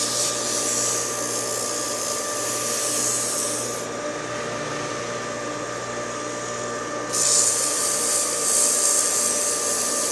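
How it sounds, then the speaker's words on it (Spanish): A centrifugal pump motor is run like a lathe to strip rust, producing a steady close whine with a high gritty abrasive hiss that drops away midway and then returns; no one speaks. "Es una forma de aprovechar el mismo motor como si fuera un torno"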